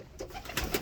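White pigeons coo softly in a breeding loft, a couple of faint, low, muffled coos in quick succession with no talk.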